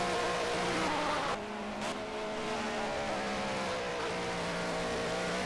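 BMW M3 race car in Project Cars at Spa-Francorchamps, a loud sustained engine roar with shifting pitch through gear changes and a brief dip near the second mark, running continuously throughout.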